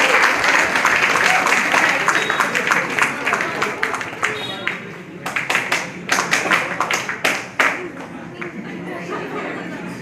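Audience in a speech hall breaks into applause welcoming an arriving guest, dense clapping filling the first half, then thinning into scattered, uneven claps with a few louder individual hits toward the end, under a low murmur.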